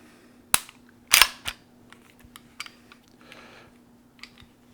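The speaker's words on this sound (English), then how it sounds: "take the mag out. The mag is out. Then I'll rack it open." A 1911 pistol has its magazine pulled and its slide racked open: two sharp metallic clacks close together, then a softer click and a few faint handling ticks, close up with no talk.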